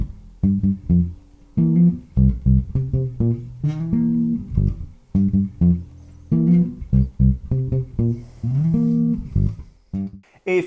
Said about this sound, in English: put some little chords into our playing to get some really funky sounds like